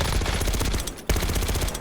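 Automatic gunfire from a weapon with heavy recoil in Call of Duty Warzone, Black Ops 6, in Verdansk: a loud, rapid, steady stream of shots with a brief break near the middle, no talking.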